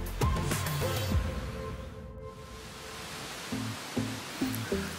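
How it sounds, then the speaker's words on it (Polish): A rushing mountain stream along a forest path by the Bílý Potok pours in a steady broadband wash, loud and close, with a few faint knocks and tonal bits near the end. "Szum górskiego potoku"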